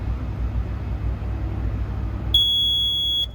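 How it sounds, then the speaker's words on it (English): A steady low rumble runs throughout, then a single sustained high-pitched electronic beep from a Tesla Model Y electric frunk sounds near the end for about a second. "We need to hold it until we hear a beep."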